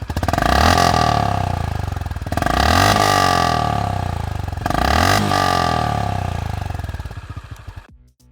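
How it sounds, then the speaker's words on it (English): A 2021 Honda CB350 RS motorcycle engine revving hard three times, each rev climbing from a low thump to a rasping high roar before dropping back, then cutting off. "it's got this thump low down in the revs, and it sounds sportier and raspier as you build the revs"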